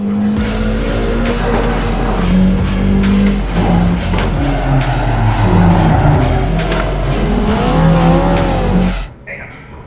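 Racing car engine roaring in a motorized driving simulator at a Fuji Speedway hotel, a loud continuous drone with rising and falling revs and tire squeal, people talking over it, cutting out abruptly near the end.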